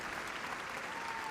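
Steady audience applause for a retiring obedience judge in a Crufts 2024 arena, a continuous wash of many hands clapping, fairly faint and even throughout.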